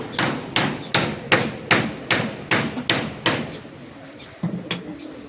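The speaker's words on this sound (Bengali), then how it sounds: "এই যে এখানে মিস্ত্রিরা কাজ করছে, তাই আওয়াজ আসছে" Construction workers hammering while building a pigeon loft: eight evenly spaced, loud, close blows in a steady rhythm, then a pause and a couple of lighter knocks at the end.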